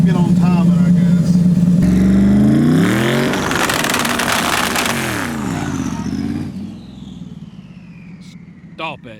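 Twin turbo Ford Crown Victoria drag car engine revving during a two-step launch test, loud rising and falling roar building then cutting off, with a person talking over it and a quieter tail at the end.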